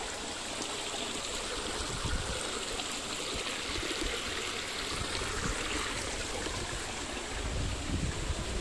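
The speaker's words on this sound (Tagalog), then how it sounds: "yung mga ilog" A river rushes along a hiking trail toward Pineapple Dam, a steady broadband wash of flowing water heard close and continuous with no voices.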